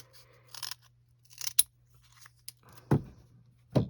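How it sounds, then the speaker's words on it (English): Scissors snip through foam adhesive sheets in a series of crisp, close cuts, several quick clustered snips followed by two sharper crunching chops, with quiet pauses between and no talking. "So you cut it to the size that you want."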